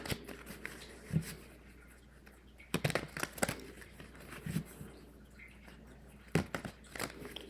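A deck of cards being shuffled at close range, faint dry riffling and snapping bursts in several short separate bouts against a quiet room.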